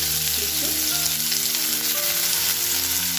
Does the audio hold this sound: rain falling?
no